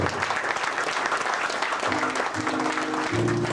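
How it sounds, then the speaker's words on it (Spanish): Applause from a church congregation at a thanksgiving service in Apopa, a dense, steady burst of clapping that fills the room, with a low voice or hum emerging near the end. "Otro aplauso."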